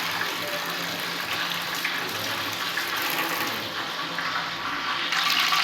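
Sliced onions washed in water make a steady, fairly loud rush and splash of running water that continues throughout, with no talk.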